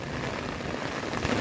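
Heavy afternoon rain in a rice-farming area during a storm with strong wind, a dense, steady broadband roar of downpour hitting surfaces, constant and loud with no pauses.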